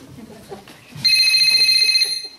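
An electronic telephone ringer in a home trills loudly and steadily for the second half, starting after a moment of background voices and noise.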